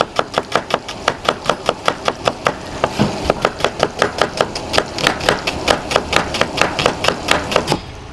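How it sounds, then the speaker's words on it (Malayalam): A knife chops onions quickly on a board in a fast, steady run of sharp knocks, about four strokes a second, close and clear, with no voices. "നമ്മളിങ്ങനെ സവാള പെട്ടെന്ന് ഇങ്ങനെ അരിഞ്ഞ് തീർക്കണം"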